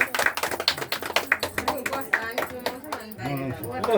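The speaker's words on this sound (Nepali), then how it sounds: "ल ताली बजाइदेऊ ताली बजाइदेऊ" Hand clapping at a Danuwar-tradition sindurpote wedding ritual, a run of sharp close claps in uneven rhythm, with people talking over and after them.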